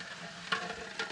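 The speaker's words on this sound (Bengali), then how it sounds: "এখন আলু ভাজা হচ্ছে" Potatoes and dal frying in hot oil at an outdoor riverside picnic, a steady soft sizzle with two brief louder bursts of stirring or spattering.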